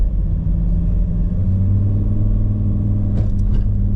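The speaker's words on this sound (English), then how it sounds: "you've got to have a 4x4 to get up the steep bank here" A 4x4 vehicle climbs a steep bank on a farm track, its engine a loud, steady low rumble close by from start to finish, with a brief higher clatter near the end.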